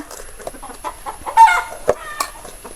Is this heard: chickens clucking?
yes